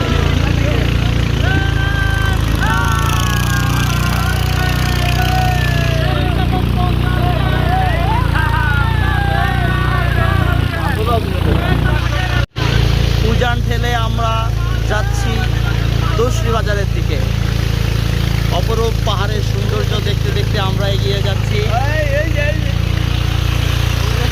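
A trawler boat's engine runs steadily on the crossing from Amtali ghat toward Dosri bazar, a loud low continuous drone heard beneath someone speaking throughout.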